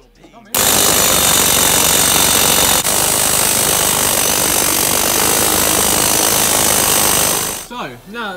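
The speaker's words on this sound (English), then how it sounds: "I'll get an impact hammer on it." Pneumatic impact hammer hammering out a suspension bolt during lowering work on a Honda Civic EP3, a loud continuous rapid clatter running steadily for about seven seconds before stopping, with a brief voice afterward.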